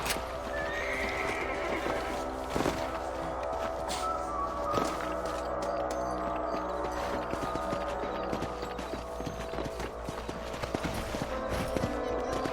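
Horses in the Red Dead Redemption video game whinny and neigh over a steady run of clip-clopping hooves, with mechanical clatter mixed into a dense, continuous game soundscape.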